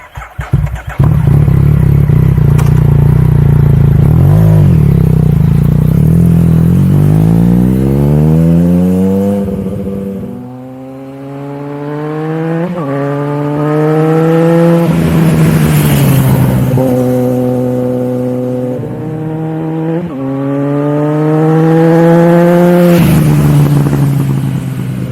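A motorcycle ridden on a rough, unfamiliar road, heard from a camera mounted inside the rider's helmet, with steady wind rush and a loud engine climbing through the gears, revs rising and dropping with each shift.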